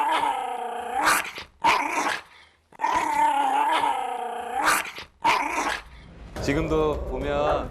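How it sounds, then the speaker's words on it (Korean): A pet dog growls and snarls in several sustained rumbling bursts separated by short pauses, close and loud, ending in a rougher, more agitated stretch of growling. "지금도 보면 두부가 으르렁거리거든요. 그거랑 오토바이 소리랑 너무 비슷해요."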